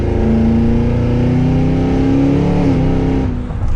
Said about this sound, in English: does this thing rip from an Escalade